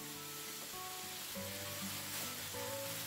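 A large red pepper sweats down in a pan, giving a steady, close sizzle that runs evenly throughout, with faint tonal background music and no talk.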